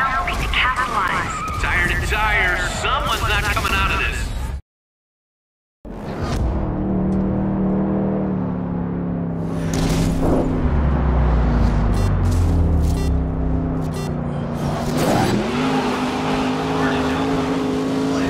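Race cars competing in the video game GRID, engines roaring and revving continuously with a crash-like impact and a brief dropout to silence partway through, while a voice talks over the racing.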